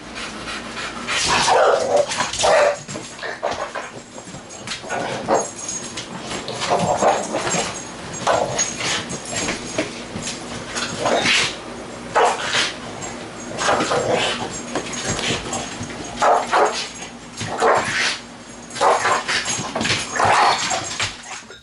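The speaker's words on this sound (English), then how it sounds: "an aggressive dog looks like this" An aggressive dog barking, snarling and panting relentlessly for over twenty seconds, loud and close, in harsh repeated bursts with brief pauses between.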